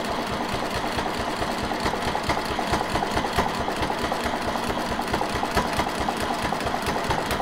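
A sewing machine runs steadily while free-motion quilting, its needle giving a fast, even chattering rhythm that is close and continuous with no talking.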